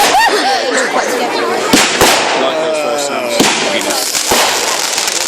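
Fireworks burst at an outdoor display, several sharp cracks standing out over the continuous roar of the crowd, with people talking and calling out nearby throughout.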